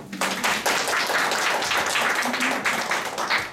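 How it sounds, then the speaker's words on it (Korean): An audience at a lecture on healing coordination breaks into applause, a sudden burst of many hands clapping loudly and densely that holds steady for several seconds and then tapers off. "박수."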